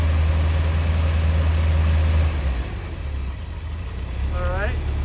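A 1938 Daimler car engine idles with a steady low rumble that drops off partway through, leaving a quieter hum under someone speaking.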